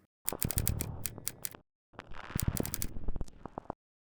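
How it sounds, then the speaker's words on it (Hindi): Quick clattering typewriter key strikes in two fast bursts, crisp mechanical clicks with a brief silence between, fairly quiet and close. "जैसे tactile typewriter sounds for text"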